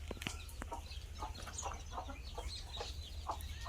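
Soft peeping and clucking from a group of desi chicks roaming free on a poultry farm, repeated short calls over a steady low background hum, fairly faint and distant.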